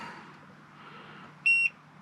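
A multimeter set to continuity mode gives one short, clear electronic beep against a quiet background.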